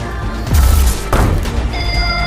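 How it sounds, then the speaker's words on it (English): A delayed-action grenade goes off with a deep, booming blast that swells in after a short pause, followed by a second sharp crack and a lingering rumble with faint ringing tones. "Little did he know it was a delayed action grenade."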